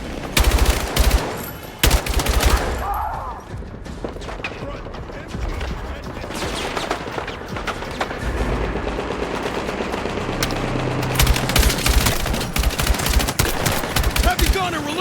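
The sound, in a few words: gunfire in Battlefield 6 video game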